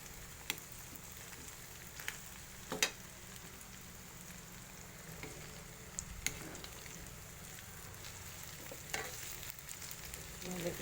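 Potatoes are stirred in a small pan of pork mechado, with a soft continuous simmering sizzle broken by occasional sharp scrapes and clinks of the spoon.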